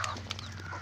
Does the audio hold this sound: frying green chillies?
no